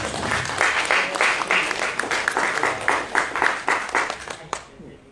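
Applause rises from the audience at a Malaysian official launch ceremony for a digital summons payment portal and app. Many hands clap in quick, even bursts that thin out over about four and a half seconds, leaving a few scattered claps before it fades.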